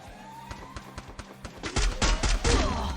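A burst of rapid video game gunfire, including an AWM sniper rifle, cracks in quick succession, starting with spaced shots and building into a louder, dense volley.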